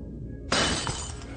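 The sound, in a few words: glass breaking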